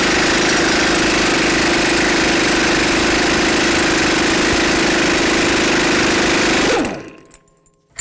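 A Jeep Wrangler front axle nut comes off under a continuous loud, buzzing power tool whir that holds steady for nearly seven seconds before winding down and stopping.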